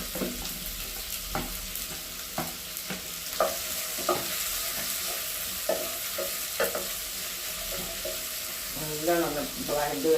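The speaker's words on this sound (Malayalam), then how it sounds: "ഇത് വെളുത്തുള്ളി, വലിയുള്ളി, കരിവേപ്പിൻ്റെ ഇലക്ക മുളക് ഇട്ടിട്ട് നല്ലോണം അതൊന്ന്" Garlic, onion, curry leaves and chili sautéing in a pan, a steady sizzle with repeated spoon scrapes and stirring knocks throughout, close and without talk.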